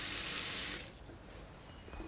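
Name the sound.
water poured into pot of packed leaves and rice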